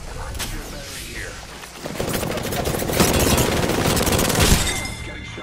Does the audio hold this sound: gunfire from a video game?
yes